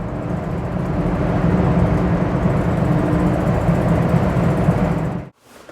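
A 1955 Lincoln Capri driving at speed, with steady engine and road noise holding at an even, loud level before cutting off sharply near the end.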